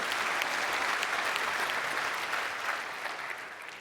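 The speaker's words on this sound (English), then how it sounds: "Applause." A conference audience at an ExileCon talk on Path of Exile 2 bosses claps in dense, steady applause that fades slightly toward the end, with no voices over it.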